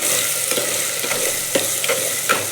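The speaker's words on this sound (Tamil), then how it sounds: "பூண்டு நம்ம பாதி வந்து வணக்கினதுக்கப்புறம் வெங்காயத்தை சேர்த்து வணக்கலாம்." Garlic and onion fry in a pan for a traditional Tamil garlic curry, a close, loud steady sizzle broken by repeated scraping stirs of a spatula, with nobody speaking.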